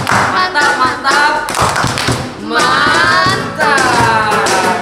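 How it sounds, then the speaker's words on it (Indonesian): Children's group clapping game at a Sunday school service, with rhythmic bursts of hand claps and taps alternating with voices chanting along in short phrases. "adik di rumah kita tepuk mantap ya. Tepuk mantap."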